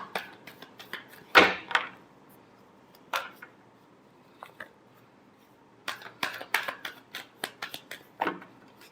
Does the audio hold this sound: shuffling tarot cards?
yes